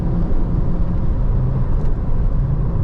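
A 2007 Porsche 911 Targa 4 with its base engine hums steadily and loudly while driving, a constant low drone with road noise and no voices.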